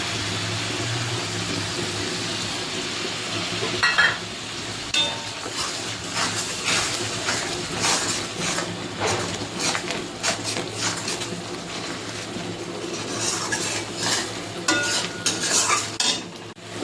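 Green chilli and ground yellow and black mustard paste frying in a pan, a continuous sizzle with frequent metallic clinks and scraping from a stirring utensil, close up and steady, with no voices.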